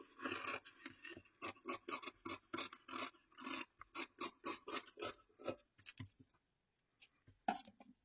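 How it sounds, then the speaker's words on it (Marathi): Scissors repeatedly snip through fabric while a puff sleeve is cut out for a blouse, giving rapid, close rasping strokes in steady bursts with a short pause near the end and no talk. "आता ही बाही आपल्याला व्यवस्थित कट करून घ्यायची आहे।"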